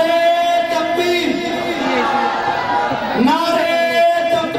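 A large gathering at a religious speech answers the Nara-e-Takbeer chant in unison, the crowd's voices swelling together and then a second loud collective response, with voices carrying throughout and close, a little reverberant.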